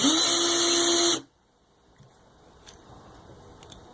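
A power drill bites into a rivet with a steady high whine for about a second, then stops, leaving faint clicks and handling noises.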